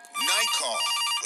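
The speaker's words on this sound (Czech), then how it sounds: "A zase zvoní telefon, nádhera." In the video game Case: Animatronics, a telephone rings with a loud, steady electronic trill that lasts about a second. A voice sounds faintly beneath it.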